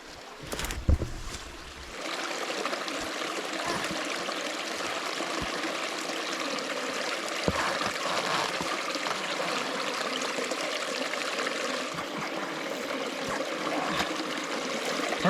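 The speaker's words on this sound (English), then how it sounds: "Look at this. Beautiful creek." Creek water flowing in the Australian outback, a steady close babble and trickle after a brief bump at the start, running continuously with a few small splashes.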